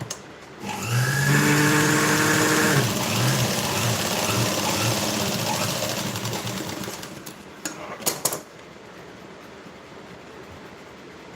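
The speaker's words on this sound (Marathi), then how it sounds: "पद्धतीने परत पट्टी फोल्ड करायची आणि शिलाई टाकून घ्यायची" A sewing machine stitches a folded strip on a princess-cut blouse, its motor whirring loudly and steadily for several seconds, then slowing and stopping, followed by a few small clicks and quiet.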